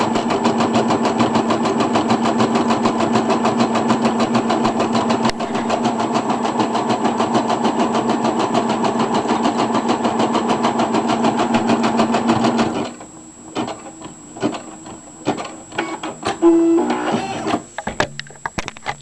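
A Brother SE 400 embroidery machine stitching a felt appliqué, a steady mechanical whirring hum that runs for a long stretch, then stops and gives way to scattered clicks and handling noises.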